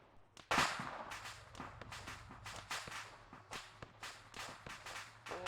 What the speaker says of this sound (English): Oh, the Vicks are gonna start cooking off.